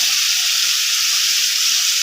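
Ground spice paste with salt hitting hot oil in a frying pan, a steady bright hiss of sizzling held close and unbroken, no voices.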